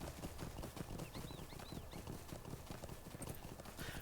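A full-size horse mount in the video game LOTRO trots along, its hooves clip-clopping in a quick, steady rhythm, close and continuous, with faint chirpy tones in the background.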